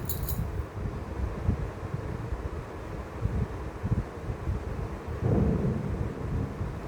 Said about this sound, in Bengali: এত বাজ পড়ছে, এত বেশি বাজ পড়ছে